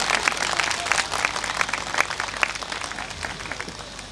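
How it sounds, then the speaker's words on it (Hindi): An audience at a Hindi event honouring Dr. Bhimrao Ambedkar applauds with dense, steady clapping that holds loud and continuous. "इतनी तालियां बजाइए कि थोड़ी सी नाराजगी सबकी कम हो जाए"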